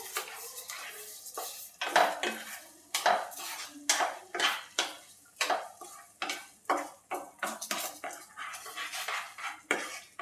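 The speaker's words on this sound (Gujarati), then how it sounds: "બે થી 3 મિનિટ માટે આપણે હલાવશું." A spoon stirs habani lapsi in a pan after saffron milk and sugar go in, scraping and clinking against the metal in a steady rhythm of about two strokes per second, close and clear, with no talk.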